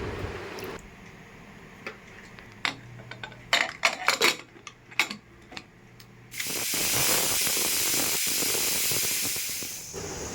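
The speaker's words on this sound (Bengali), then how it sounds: "ডালটা প্রেসার কুকারে সেদ্ধ করে নেব।" A pressure cooker boiling lentils (dal) vents steam, with scattered clicks and short bursts of hiss before a loud, steady steam hiss takes over and continues to the end, close to the listener.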